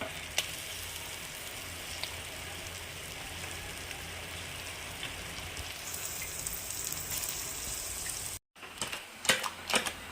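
Fish goes into a simmering tamarind fish curry, a steady soft hiss of sizzling and bubbling that runs faint and even, then briefly cuts out before a few sharp clinks and splashes near the end.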